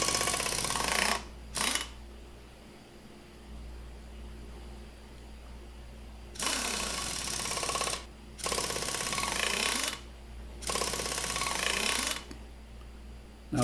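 A screwdriver or power driver runs in loud whirring bursts, fastening screws back into the clean gearbox cover of a vintage oscillating fan, with several separate drives spaced by short pauses and no talk.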